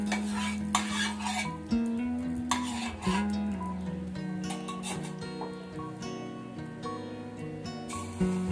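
Batter spreads dosa-style in ghee on a hot pan, with a continuous sizzle under repeated close metal scraping and clinks of a spoon or ladle at an uneven rhythm.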